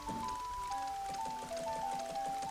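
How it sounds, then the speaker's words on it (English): Steady rain falls in the video game Zelda: Majora's Mask as a continuous patter, with game music tones playing over it. "I would say the second day is my favourite day because it's raining"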